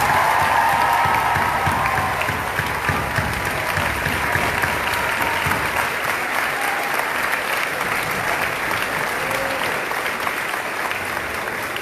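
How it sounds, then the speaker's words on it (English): Sustained applause from a high school assembly honoring teachers at Kennedy High School in Cedar Rapids, a dense, steady wash of clapping that fills the whole stretch at fairly loud level, with a brief voice surfacing near the end. "Ladies and gentlemen, we give the teachers a round of applause."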